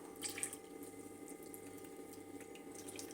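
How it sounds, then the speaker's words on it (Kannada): Water pours in a faint, soft trickle with light splashes into a ragi mixture being stirred for ambali, a cooling summer drink, with no talk over it. "ಇನ್ನು ಸ್ವಲ್ಪ ನೀರು ಸೇರಿಸ್ಕೊತೀನಿ"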